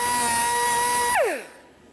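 A power tool cuts a license plate bracket rivet on a 2005-2010 Pontiac G6, a steady high whine that drops sharply in pitch as the tool spins down and stops near the end.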